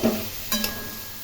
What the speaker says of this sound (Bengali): আলু, বেগুন, গাজর, টমেটো, ফুলকপি ছোটো ছোটো করে কেটে দিয়ে ভাজা ভাজা করে নিচ্ছি।